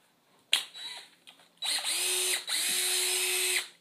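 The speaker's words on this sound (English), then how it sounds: "Drill." A power drill whirs in short bursts, then runs in two longer sustained whines, loud and close, with no talking.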